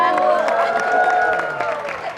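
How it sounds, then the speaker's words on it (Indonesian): A TV studio audience applauds and cheers during a comedy show, a short burst of crowd noise mixed with voices and music, fading slightly toward the end. "tepuk tangan"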